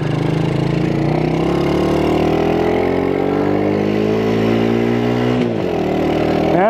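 A Chinese quad ATV engine runs loud and steady throughout, its droning pitch rising as it pulls, then dropping sharply near the end as the rider shifts into third gear on a slow ride through a subdivision.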